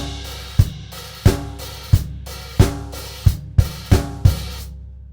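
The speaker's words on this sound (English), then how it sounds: "So that 2-bar disco groove sounds like this in bar 23 and 24." A drum kit plays a two-bar disco groove, sharp regular hits each followed by ringing open hi-hat decay, repeating steadily before stopping abruptly.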